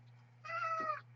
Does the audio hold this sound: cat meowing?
yes